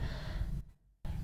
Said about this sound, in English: So let's try when we take a deep breath.